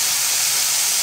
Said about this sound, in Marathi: सोया सॉस घालते आहे.